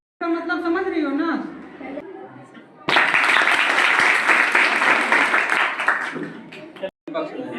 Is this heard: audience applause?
yes